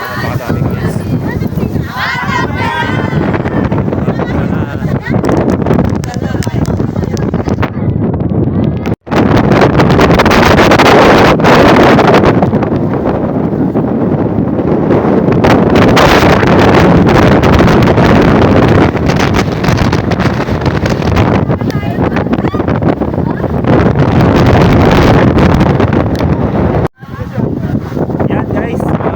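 Very strong wind on the coast by a lighthouse roars loudly into the microphone in continuous gusts, with someone talking under the heavy buffeting.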